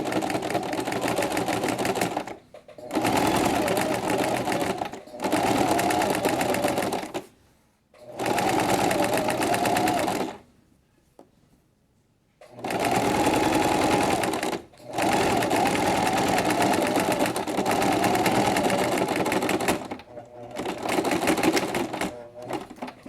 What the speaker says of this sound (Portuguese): eu vou passar minha costura em cima dela pra poder tá prendendo essa peça aqui na fralda da parte de cima